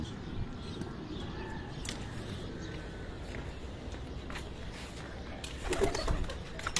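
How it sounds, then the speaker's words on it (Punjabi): Soft pigeon cooing murmurs under a faint outdoor background, with a few light rustles and a louder flutter near the end. "ਇਹ 11ਵਾਂ ਕਬੂਤਰ, ਆਖਰੀ ਕਬੂਤਰ ਜੀ"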